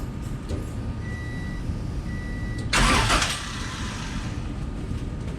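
A high-compression Honda D16Z6 engine cranks and fires into a loud, sudden start, then settles back into a steady, lower idle rumble, heard close with no talk.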